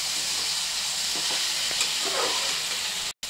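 A spiced rice khichdi is stirred in a hot pan, giving a steady close sizzle and hiss with faint scraping, and no talk.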